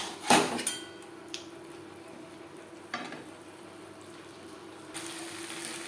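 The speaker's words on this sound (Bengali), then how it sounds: "আলু আরও তিন চার মিনিট নাড়াচাড়া করে দেবো" Potatoes with spices stirred in a pan: a soft sizzle with a sharp metal scrape at the start and a few lighter scrapes and knocks from the spoon later on.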